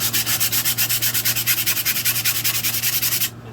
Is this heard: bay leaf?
no